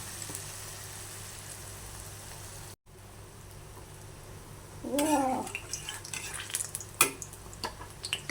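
Fritters (bora) fry in a pan with a soft, continuous sizzle that cuts out briefly, then returns as a voice speaks and light utensil clatter joins in.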